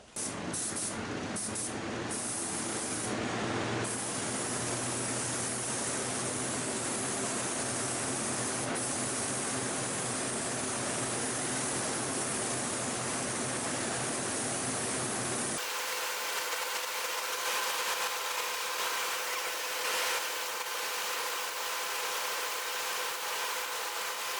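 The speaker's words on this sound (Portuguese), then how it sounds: "Vamos fechar a pistola, colocar a máscara, ligar o exaustor e se preparar." Paint spray gun hissing in a steady, loud wash alongside a running exhaust fan, the tone shifting partway through as the spray stops and the fan's hum and rattle continue alone.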